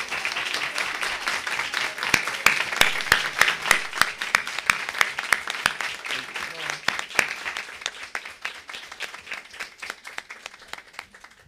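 Crowd applause fills a Brazilian congressional women's rights committee session as trans women survivors of incarceration stand; dense, steady clapping with sharp individual claps on top, fading slightly toward the end.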